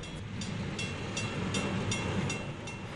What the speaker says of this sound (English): The park's miniature train is a popular school holiday attraction and run entirely by volunteers.